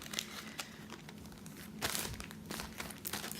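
A plastic bag of embroidery floss crinkles and rustles as it is handled up close, with irregular crackling bursts and a louder crumple near the middle.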